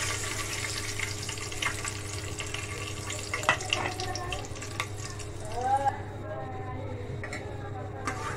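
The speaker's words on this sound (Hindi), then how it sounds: "पहले हम ये राई दाना डालेंगे।" Mustard seeds sizzle steadily in hot oil for a tadka, with occasional stirring scrapes and a faint voice briefly in the background.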